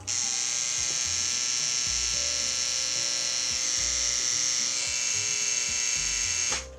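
A tattoo machine fitted with a cheap, unbranded generic cartridge needle runs in one steady, loud, close electric buzz with a faint rattle, cutting off just before the end.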